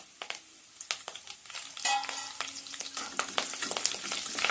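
Curry leaves and dried red chillies crackle and spit in hot oil for a country chicken curry, sharp irregular pops over a rising sizzle with stirring scrapes, no talk.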